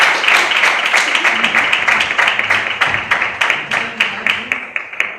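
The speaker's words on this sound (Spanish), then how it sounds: "batimos las palmas en el nombre de Jesús" A church congregation claps hands together in a fast, steady rhythm, loud and close, with many palms striking in unison and faint voices underneath.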